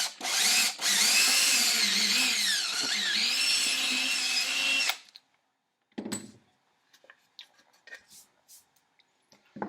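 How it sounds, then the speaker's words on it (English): Power drill boring string holes through a guitar body, a close, loud whining drill run of about five seconds with the pitch dipping under load, then a brief clunk and scattered handling noises in quiet. "I took and I drilled right through on one of the E-holes."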